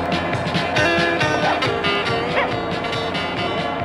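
A dog in a movie gives a run of quick, yappy barks and whimpers over busy film sound, with traffic noise and a little talk mixed in.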